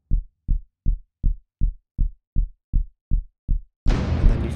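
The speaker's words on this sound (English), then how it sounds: "I've gone for this lovely heartbeat sound" Deep, thudding synthetic heartbeat pulses, about ten evenly spaced low thumps, followed by a sudden burst of dense noisy texture at the end.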